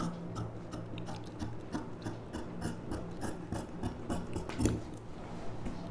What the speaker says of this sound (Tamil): இப்போ ஃப்ரண்ட் நெக்கு இந்த ஷேப் அளவுக்கு அப்படியே கட் பண்ணிக்கலாம்